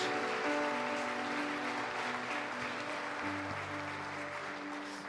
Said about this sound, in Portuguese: Quem acredita nessa palavra, aplauda bem forte ao Senhor.